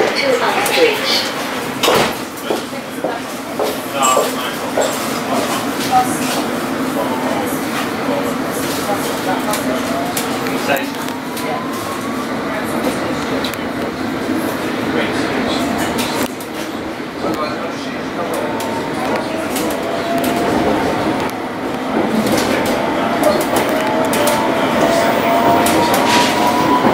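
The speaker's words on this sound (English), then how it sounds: "This is an all-station Metropolitan Line train to Uxbridge." A London Underground Metropolitan Line train running between Finchley Road and Wembley Park, with a loud, steady rumble of wheels and car noise and rising motor whine throughout, and announcements heard over it.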